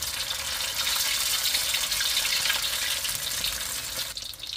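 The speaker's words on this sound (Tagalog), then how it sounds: "So, mas maganda kapag ipiprito natin siya dun sa lubog sa mantika." Chicken lumpia deep-frying submerged in hot oil, a steady loud hiss and crackle of bubbling oil that continues evenly throughout before easing slightly at the end.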